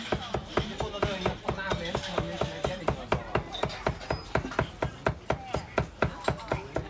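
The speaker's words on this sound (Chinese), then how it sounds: "剁肉的时候很投入。" Meat is chopped at a street food stall in a busy Shandong market, a rapid, steady series of sharp thuds about three per second. It sounds close and fairly loud over a faint murmur of surrounding activity.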